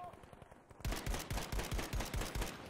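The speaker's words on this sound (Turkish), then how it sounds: "Silah çok seri atıyor abi bir de." Assault-class gun in Battlefield V fires a rapid, even burst of loud close shots after a brief quieter lead-in.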